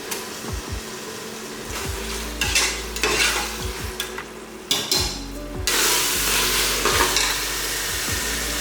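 Tomatoes fry and get stirred in a pot for mutton dum biryani, a steady close sizzle broken by repeated scraping strokes of a spoon, the frying swelling louder partway through.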